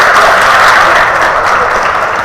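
A group at a free yoga camp claps hands loudly and continuously, a dense, close wall of applause that fills the whole stretch without pause.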